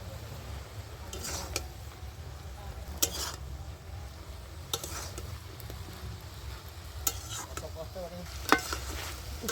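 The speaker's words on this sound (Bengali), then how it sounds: "তো ঢাকনাটা খুলে আমি শাকটা এবার একটু নেড়ে চেড়ে দিচ্ছি।" Spinach greens cooking in a pan give off a low, soft sizzle, broken by several sharp scrapes and clinks as a spoon stirs them against the metal.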